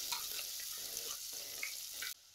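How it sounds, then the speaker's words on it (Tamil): Onions sizzle and crackle steadily in a hot pan as they sauté toward golden, with faint stirring scrapes, before the sound cuts off abruptly. "இந்த வெங்காயம் பாத்தீங்கன்னா லேசா ஒரு பொன்னிற வர்ற அளவுக்கு வதக்கி எடுத்துக்கலாம்."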